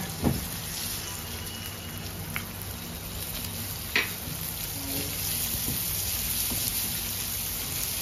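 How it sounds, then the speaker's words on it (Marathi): Chopped onion softly sautés in a pan for Maharashtrian horsegram pithla, a steady faint sizzle with a few clinks of a spoon against the pan, heard alone without talk. "कांदा जरा परतवायचा, एकदम लाल नाही करायचा, पण थोडासा परतवायचा कांदा"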